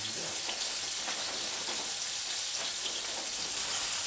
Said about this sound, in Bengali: এবার চিংড়িগুলোকে আমি হালকা করে ভেজে নেব।